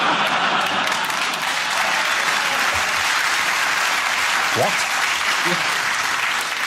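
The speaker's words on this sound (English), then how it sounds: "I love the way that they clapped at different times, depending on how quickly they got it." Studio audience of a British topical comedy panel show applauding, a dense, steady wash of clapping that fills the whole stretch, with a brief voice cutting in partway through.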